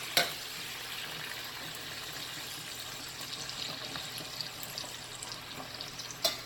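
Chicken pieces sizzle in a pan after a little water is added, a steady soft crackle and hiss with a couple of sharp utensil clicks at the start and end, no one speaking.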